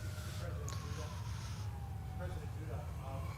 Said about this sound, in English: The sirens are a nice touch.